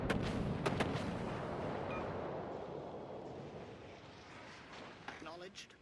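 Warship guns firing in World of Warships: Legends, a deep booming salvo that rolls into a long fading rumble, with sharper cracks at the start and end and a voice talking over it.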